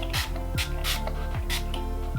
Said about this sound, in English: The last step that I'm going to be doing is using this Make It Stay spray by JUDITH August Cosmetics.